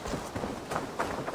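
Horse hooves clop in Assassin's Creed Valhalla, a quick uneven run of about five soft thuds over a little more than a second, close and moderately quiet.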